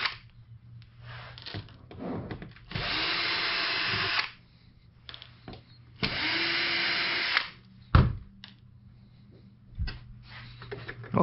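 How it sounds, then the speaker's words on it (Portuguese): Cordless screwdriver backing screws out of the metal shielding of a SEMP TCL L49S4900FS LED TV under repair, two long whirring bursts with clicks and handling knocks between them. "Deixa eu aproveitar e tirar esses parafusos aqui né? nessa blindagem também."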